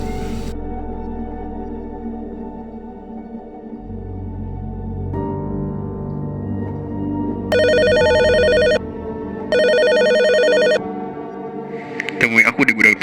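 A telephone rings in two electronic bursts of ringing tone over a quiet, droning background score in an old warehouse scene, followed by a brief click and rustle.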